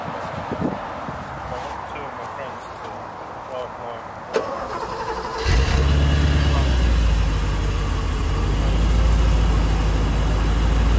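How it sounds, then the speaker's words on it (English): A Porsche 928 GTS V8 starts up after quiet talk, then settles into a loud, deep, rumbling idle from the exhaust, close and steady for the rest of the clip. "maybe we could just start it up so we can hear the exhaust"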